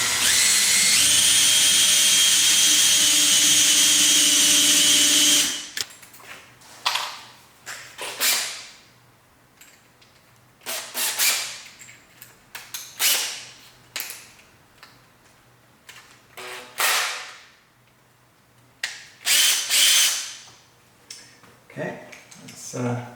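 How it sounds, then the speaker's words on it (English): A power drill bores a pilot hole for a Tesla charging cable organizer, a loud continuous whir for about five seconds before stopping, followed by quiet gaps with speech and small handling sounds. "So let's drill up. Well, this hole will be the pilot hole,"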